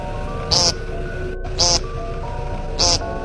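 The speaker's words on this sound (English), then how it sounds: "Number 5, American woodcock." An American woodcock calls three times, each a short, buzzy, nasal note standing out clearly above a quiet background hiss at fairly even intervals.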